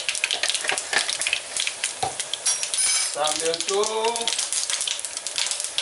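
Mustard seeds frying in hot ghee crackle and sizzle with sharp pops, joined by a spoon clinking against the pan and brief speech over the cooking sounds.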